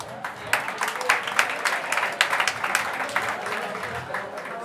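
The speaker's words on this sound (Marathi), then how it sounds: "जोरदार टाळ्या वाजवायच्या." An audience at a college prize distribution breaks into continuous applause, a dense, even wash of many hands clapping with scattered sharper claps, and a voice speaking faintly beneath it.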